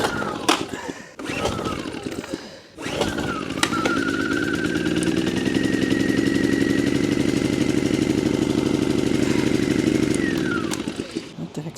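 A small engine runs with the choke still on, starting after a few sputters and then settling into a loud, steady, slightly uneven drone close by before dropping off at the end; a voice speaks briefly at the start.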